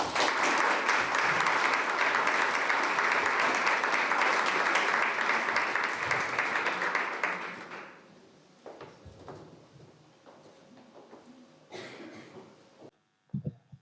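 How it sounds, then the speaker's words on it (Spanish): An audience at a conference on the ecosocial crisis gives warm applause for about seven seconds, dense and steady, then it stops abruptly, leaving a quiet room with a few scattered knocks and shuffles. "Un fuerte aplauso para él."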